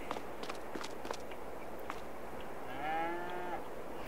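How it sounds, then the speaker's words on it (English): Cows in the farming video game Farming Simulator 22, with a clear drawn-out moo near the end after soft shuffling hoof steps, all fairly quiet. "there's a couple moos"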